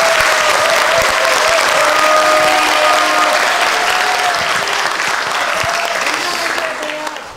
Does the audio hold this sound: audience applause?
yes